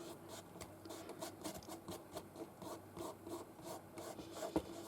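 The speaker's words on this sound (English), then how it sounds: "you put the tiniest bit on, and then you're just going to rub slowly across like that" A cloth works finish slowly across the wood of a key cabinet, making a quiet, close, rhythmic rubbing and scratching in repeated strokes with no voices.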